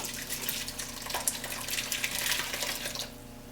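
Homemade veal stock is poured from a pot through cheesecloth to strain, a soft, steady stream of splashing liquid that is fairly faint and trails off near the end.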